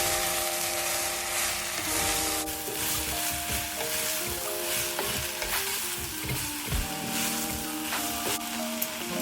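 Vegetables and broccoli sizzle steadily in a hot pan, with a continuous close frying hiss and occasional stirring clicks. Soft music plays underneath.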